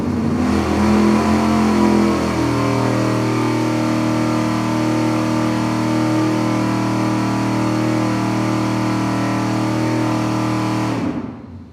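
A V8 engine held at a steady 4,700 RPM on a dyno, a loud, unbroken mid-pitched drone that holds its tone for about eleven seconds and then drops off sharply at the end.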